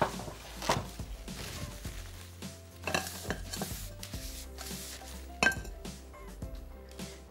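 A frying pan is handled in a kitchen, with clinks and clatters of metal and glass in an uneven rhythm, close and fairly quiet, with a faint sizzle underneath.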